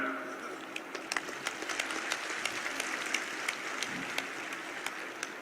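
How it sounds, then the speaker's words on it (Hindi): An audience applauds in the Lok Sabha, a sustained patter of many hands with sharper individual claps poking through, moderately quiet and heard from a distance, with a faint voice briefly under it. "तालियां बजा रहे हैं।"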